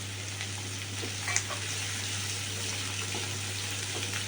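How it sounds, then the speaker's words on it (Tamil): Green peas tipped into a pan of sizzling oil while cooking a creamy pea soup, giving a steady close frying hiss with a brief rattle of the peas going in, and no talking. "இப்போ நம்ம இது கூடவே எடுத்து வச்சுருக்கிற இந்த பட்டாணியை போட்டுக்கலாம்"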